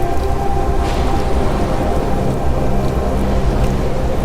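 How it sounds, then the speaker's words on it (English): Dense, steady roar of heavy rain pouring down without a break, loud and close, with a full low rumble underneath the wash of drops. "Soon, the heavens opened, unleashing a torrential downpour."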